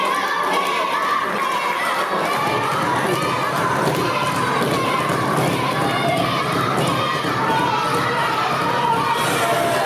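A dense, roaring crowd cheers steadily throughout at a professional wrestling match, reacting as a wrestler kicks out of a pin and struggles to his feet. The noise stays loud and unbroken, with shouts mixed into the din and possible commentary beneath.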